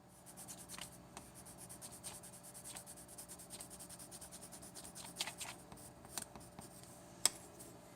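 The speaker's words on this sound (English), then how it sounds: "So we take the pencil, and I'll color a corner of paper here." A pencil pressed hard colors a corner of paper, making faint, steady scratching strokes with occasional sharper scrapes, heard up close and alone.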